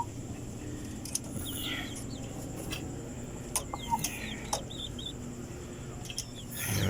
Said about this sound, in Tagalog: Ito yung ating soon to be hen. Yung pulit natin na asil.